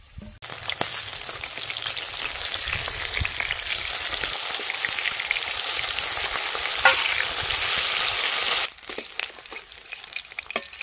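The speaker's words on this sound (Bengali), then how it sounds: "মাছগুলো লাল করে ভেজে নিয়েছি" Rohu fish frying in hot oil, with a dense, loud, crackling sizzle that holds steady for several seconds and then drops off abruptly, leaving a quieter hiss with faint spattering pops, no voices.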